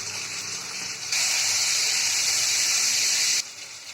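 Chopped tomato goes into hot oil that already holds turmeric and chili powder for a Bengali potato curry, and a loud steady hiss swells up at once, holds for a couple of seconds, then eases.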